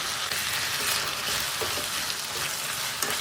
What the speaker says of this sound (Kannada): ಈರುಳ್ಳಿ ಜೊತೆಗೇ ಟೊಮ್ಯಾಟೋನು ಹಾಕ್ಕೊಂಡು ಸ್ವಲ್ಪ ಫ್ರೈ ಮಾಡ್ಕೊಳ್ತೀನಿ